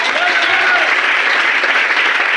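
Loud, dense clapping from an audience at a business meeting, a continuous roar of many hands held at an even level from start to finish, with no voices on top.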